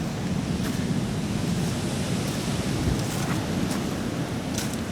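Ocean waves flood Malama Flats in Hawaii, producing a continuous broadband roar of surf and rushing water, loud and close, with wind noise buffeting the microphone and no speech.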